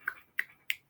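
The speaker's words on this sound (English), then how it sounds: "And we already did the snaps" Three crisp finger snaps, evenly spaced and close up, each a sharp click against near silence.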